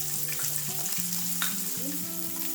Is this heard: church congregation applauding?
no